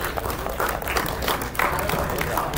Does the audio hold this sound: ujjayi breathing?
no